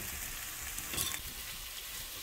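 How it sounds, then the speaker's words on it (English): Onions sautéing in hot olive oil in a skillet, a steady faint sizzle with a brief rise in the middle, no talking. "I'm gonna saute these onions"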